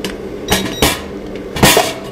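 Oven unit pulled out of a mini 3D sublimation heat transfer machine used for iPhone covers: a few sharp metallic clanks and knocks, close and fairly loud, spaced irregularly with quiet handling between.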